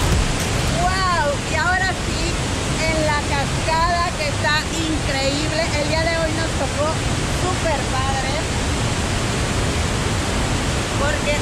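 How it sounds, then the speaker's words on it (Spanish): The Chopantla waterfall in Coatepec, Veracruz pours as a loud, constant broadband roar, with people talking over it throughout. "Coatepec, Veracruz, es la cascada de Chopantla."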